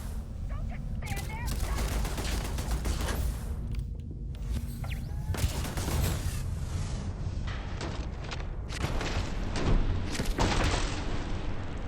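Bursts of rapid gunfire and sharp single shots in the space game Starfield during a low-gravity fight sound up close, mixed with sliding, door-like mechanical noises and someone speaking over the action.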